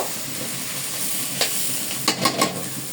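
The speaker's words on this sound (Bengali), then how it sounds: "আমি একটু নেড়ে দিব যাতে লেগে না যায়" Vegetable bhaji sizzling in a pan as it is stirred to keep it from sticking, a steady hiss with a few quick scraping strokes near the end.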